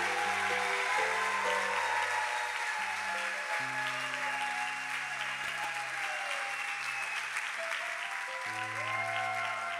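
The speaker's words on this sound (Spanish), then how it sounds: "Ese aplauso es para el Señor." A church congregation applauds loudly and steadily during a Catholic homily, the dense clapping continuing over sustained organ or keyboard chords.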